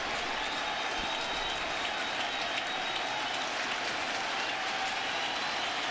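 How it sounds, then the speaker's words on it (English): Baseball stadium crowd at an opening-day Marlins vs Mets game cheering and applauding steadily, a broad sustained roar filling the whole stretch without any clear voice above it. "Well, that got the crowd fired up."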